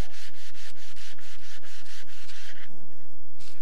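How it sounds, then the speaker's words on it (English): A random orbital sander with 120-grit paper works a wooden surface, giving a loud, close, rhythmic rasping hiss in quick pulses that stops briefly and then returns for one last pass. "you'll dig and dig and dig with that random orbital sander"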